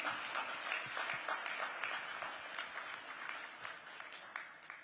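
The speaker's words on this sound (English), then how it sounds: "To the whole Digit team, a huge round of applause, please." Audience at a tech awards ceremony clapping in steady applause, a dense patter of many hands from a moderately distant crowd, fading slightly toward the end.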